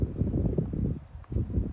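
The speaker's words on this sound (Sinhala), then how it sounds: "ඇහෙනවද හුළඟ සද්දේ?" Wind gusting through a backyard garden in Canberra, Australia, a steady low rush with a brief lull before picking up again, close and fairly loud with no talking.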